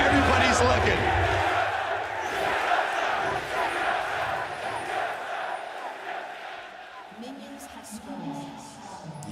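Crowd at a League of Legends LCS Spring finals between Team Liquid and TSM roaring and chanting loudly, fading somewhat over time, with a caster talking over the noise.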